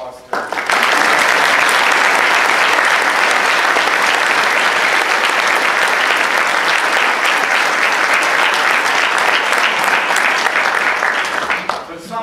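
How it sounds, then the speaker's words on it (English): Loud, sustained applause from an audience at a military commissioning ceremony, a dense wash of clapping that swells in at once, holds steady for about eleven seconds, then fades out. "But I'd like to give a round of applause to her."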